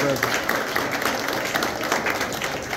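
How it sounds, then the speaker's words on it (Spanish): A crowd at a community assembly in Guauci Arriba, Moca, applauds a guest, with dense, continuous clapping mixed with crowd noise and some voices across the whole stretch. "El aplauso para ella."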